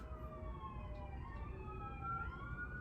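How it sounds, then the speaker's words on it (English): Distant police or ambulance siren, faint sustained wailing tones gliding slowly up and down over a steady low background hum. "The cops, ambulance, do you guys hear that?"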